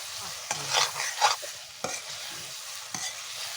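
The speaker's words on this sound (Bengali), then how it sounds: "চিংড়ি মাছের সঙ্গে মশলাটা কষিয়ে নেব ভালো করে" Spice paste and prawns sautéed in a pan for a spicy Bengali prawn kalia, with steady sizzling and a few sharp scrapes of a stirring spoon, close and alone.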